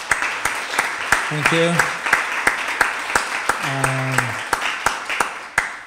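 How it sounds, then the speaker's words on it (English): Audience at a training course meeting giving a round of applause to presenters, sparse, evenly spaced claps close to the microphone rather than a full ovation, while someone briefly speaks over them. "So another round of applause."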